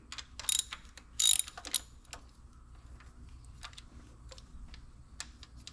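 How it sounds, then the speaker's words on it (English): A ratchet clicks in short bursts while removing the mounting bolts from a Quadrajet carburetor on a 1980 Pontiac Trans Am, the quick pawl ticks close and fairly quiet, separated by pauses and light handling noise. "we'll take out our front 2 carb mounting bolts"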